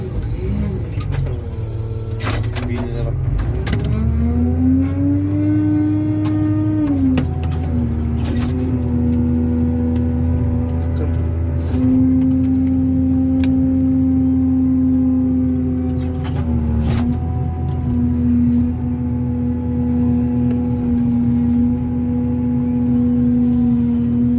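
A motor grader's diesel engine runs close and loud, steady drone rising in pitch as it revs, then holding a constant hum with occasional clanks, no talk.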